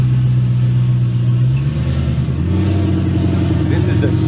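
A Lund-tuned 2017 Mustang GT with a single turbo rumbles loud and close, its engine note holding steady and then shifting pitch as it revs, with a continuous deep drone throughout.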